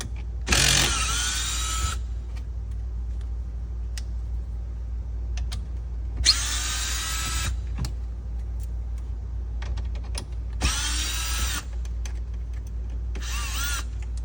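A power drill backs screws out of the MBUX control unit in a car interior, giving four separate close, loud whirring bursts with quiet gaps between them, and no talking.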